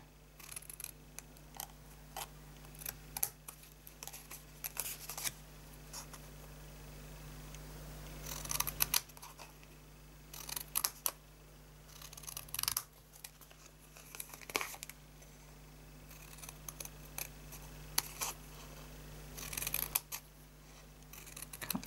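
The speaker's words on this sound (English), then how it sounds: "Let's just cut the corners out." Scissors snip the corners out of a handmade paper gift box in a crafting setting, a steady run of crisp close cuts with paper crinkling and rustling between them, no talking.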